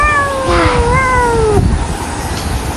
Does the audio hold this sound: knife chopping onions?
no